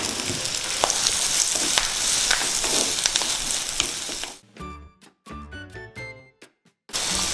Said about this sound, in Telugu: స్టవ్ వెలిగించుకొని నూనె వేసుకుందాం. కొంచెం పచ్చిమిర్చి, కొంచెం కరివేపాకు, కొంచెం ఉల్లిపాయ.